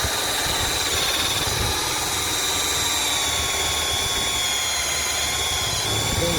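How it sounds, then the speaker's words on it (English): A power drill with a small hole cutter bores into the wooden transom of a RIB inflatable boat, giving a steady, loud, continuous whine and grinding that holds throughout without pauses. "use a little hole cutter. So what we're going to do is drill a hole right next to the screw"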